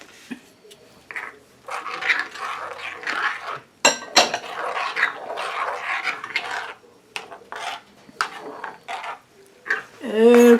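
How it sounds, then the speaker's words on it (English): A dog snores in rasping, rhythmic breaths, each drawn-out snore separated by short pauses, fairly close and loud in a kitchen, with occasional clinks of dishes or utensils. "I hear that dog snoring."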